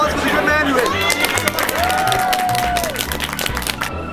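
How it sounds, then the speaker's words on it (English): A crowd at an interview event applauds a guest, mixed clapping and chatter under talk, with a brief rising whistle or cheer in the middle and a busy, moderately loud hall sound throughout. "can we all give a good round of applause for the good man who is?"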